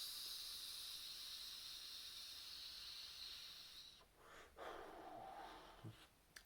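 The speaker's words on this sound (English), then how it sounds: "Probably hear the airflow there." A steady, close airy hiss of air being drawn through a Smok Nord pod vape, continuing for several seconds before giving way to faint handling noises.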